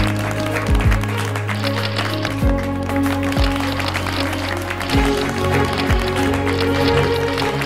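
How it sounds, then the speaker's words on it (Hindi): Audience applause for a prize winner on a Hindi TV comedy series, mixed into loud background music with pounding beats, the clapping rising and falling across the stretch. "तालियां।"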